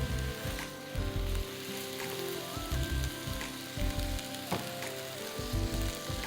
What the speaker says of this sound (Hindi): कीमे के साथ आप भून लीजिए फली को भी।